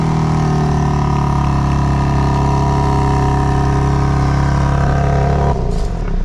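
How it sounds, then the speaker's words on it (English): A 2025 BMW M4 Competition with quad-tip dual exhaust idles loud and close after a remote start, a steady deep rumble held for several seconds before the note drops abruptly near the end. "the quad tip dual exhaust, which we can start up because this does feature remote start"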